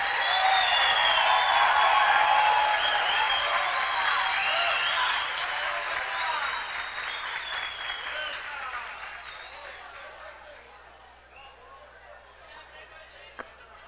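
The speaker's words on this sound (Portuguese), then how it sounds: "quero que vocês recebam ele com aquele aplauso" A plenary audience at a São Paulo engineers' meeting breaks into sustained applause to welcome the coordinator, loud dense clapping that slowly fades to a thinner patter with some crowd murmur.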